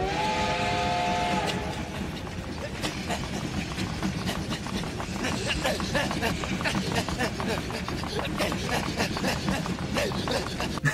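A train rumbles past with rhythmic clacking of wheels on rails, preceded by a long whistle blast, loud and close.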